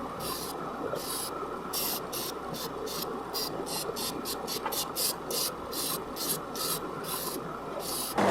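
An opal chip pendant gets its sides trimmed on a grinding or sanding tool, giving a steady abrasive rasping hiss through the whole stretch with rhythmic bursts as the piece is pressed and lifted, close and fairly loud.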